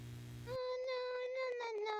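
A cat meows in the horror video game Amanda the Adventurer, a drawn-out, wavering cry that follows a short burst of low background noise and holds steady, clear and close.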